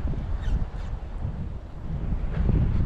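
Wind gusts roar across the microphone at a spillway in Corpus Christi, Texas, on a winter fishing trip, a steady low rumbling buffet with no voices.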